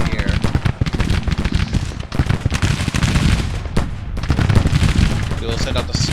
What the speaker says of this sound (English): just these cannons over here that shoot a little bit